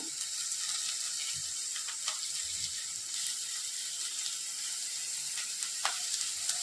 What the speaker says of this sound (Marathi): कांदा भाजताना थोडासा सुट्टा करून घ्यायचा त्यामुळे आपला कांदा लवकर भाजतो